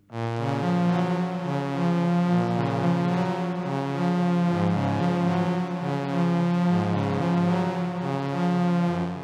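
A thick, buzzy synthesizer made with Zoya plays a slow melodic theme of sustained notes, steady and loud throughout with no other sounds.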